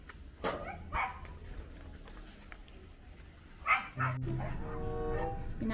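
A dog barks a few times, sharp yips scattered among background noise and a low rumble, with a whimpery sound near the end.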